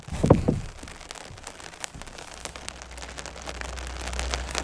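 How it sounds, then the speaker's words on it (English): Rain falls outside with soft crackling patter and scattered drops, after a brief louder thump at the start, and a low rumble builds steadily beneath it toward the end. "it is raining outside"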